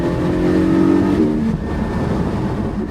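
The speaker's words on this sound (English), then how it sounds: "The 6-cylinder Boxer engine in Boxster Cayman 911 just has this magnificent sound" A Porsche 718 Spyder's flat-six boxer engine revs loudly and steadily with a deep, smooth growl, its pitch shifting slightly as it holds high revs.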